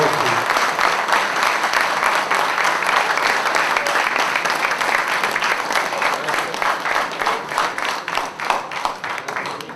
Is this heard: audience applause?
yes